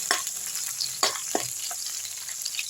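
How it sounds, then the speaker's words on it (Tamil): Crushed garlic fries in hot oil with a bright continuous sizzle, broken by a few sharp crackles and spits, close and fairly loud with no talking. "அடுத்து தட்டி வச்ச பூண்டை வந்து போட்டுக்கோங்க எண்ணெயில்."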